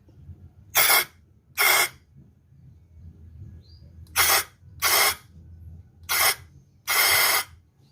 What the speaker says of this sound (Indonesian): saya semprot pakai cleaner